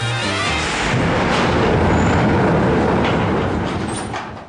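A Space Mountain roller coaster train runs during a safety test, a steady loud rumbling roar of wheels on track that swells and holds for several seconds with faint metallic squeals, no voices.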